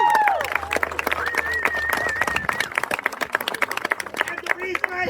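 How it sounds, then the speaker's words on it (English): Audience clapping at a Renaissance fair show, a dense burst of many hands under a performer's loud voice and whistling, steady and close. "Now you can clap."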